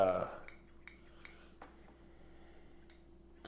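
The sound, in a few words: fabric shears being snipped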